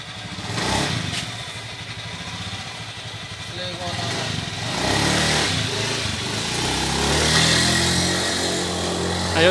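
Honda Beat Fi scooter engine running on a road test, a continuous buzzing motor that rises and settles as it moves, heard close with a voice talking over it.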